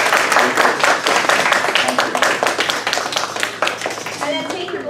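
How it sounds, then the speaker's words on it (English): A class applauds a guest speaker, a civil rights leader, with brisk, fairly close hand clapping from a modest group that stays lively for five seconds, with a little chatter mixed in. "let's have a round of applause"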